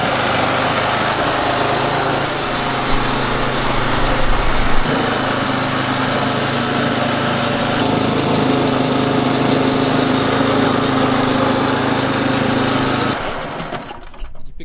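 A reel mower cutting kikuyu grass runs with a steady, continuous whirring drone lasting over ten seconds, loud and close, before cutting out near the end.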